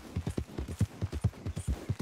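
Horse hooves clip-clopping in the video game Red Dead Redemption 2, a temporary horse trotting with a steady, even rhythm of distinct close hoofbeats.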